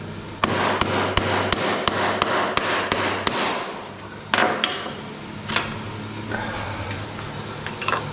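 Hammer tapping pieces off during cave construction work, a steady series of sharp close knocks, about a dozen spaced strikes over a constant mechanical hum and background noise.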